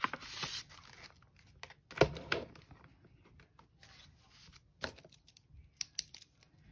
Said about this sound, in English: And we're gonna put this in the cash envelope.